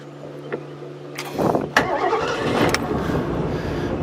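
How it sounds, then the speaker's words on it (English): A 1985 Ski Nautique 2001 ski boat's engine cranks briefly and catches, settling into a steady, throaty rumble at close range with a few sharp clicks and knocks over it. "let's fire it up and take it for a spin"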